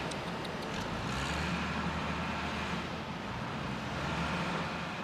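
Low rumbling engine drone of lorries at a sewage works where sludge cake is piled, a steady moderate roar with no talking.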